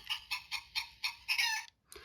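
Battery-powered Take Along toy chicken car plays electronic rooster crowing and clucking in a quick series of five or six bright, even bursts, then pauses before one more begins, close and fairly loud.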